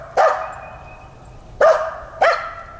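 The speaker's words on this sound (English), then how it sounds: "Nobody likes a barking dog." A dog barks three sharp, loud times close by, with one bark, a pause of over a second, then two more in quicker succession, in an outdoor setting near a truck.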